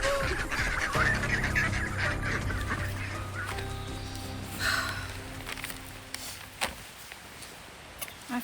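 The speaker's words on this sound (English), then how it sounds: "I should have known that green-capped mallard was up to something this morning." Honking, goose-like calls from a green-capped mallard duck ring out loud and close in a mountain setting in the Great Smoky Mountains, a burst of repeated calls that fades, followed by a few scattered knocks.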